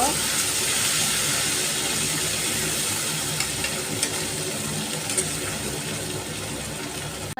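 Garlic, ginger and green chili paste with grated tomato fry in hot oil, a loud, steady, dense sizzle with occasional faint stirring clicks, continuing without pause.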